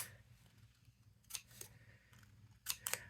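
Zigzag scissors snip through paper in a few short, crisp bursts near the end, clustered in two quick pairs over a low background hum, close and moderately loud.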